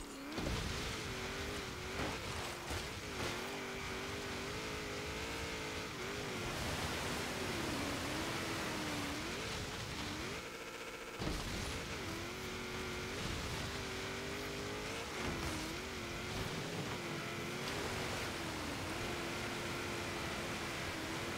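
A 1987 Buick Regal GNX in Forza Horizon 3 races off-road at over 100 mph through rough ground near a river. Its engine drones loudly and steadily, the pitch rising and falling with revs, and the noise briefly dips partway through.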